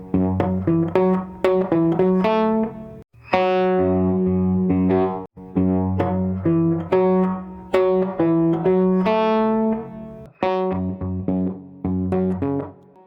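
Slide guitar in open E tuning playing a bottleneck lick, fingerpicked with a clawed first beat and a driving thumbed bass on the low strings; sustained sliding notes over steady bass, played alone in repeated phrases with brief pauses.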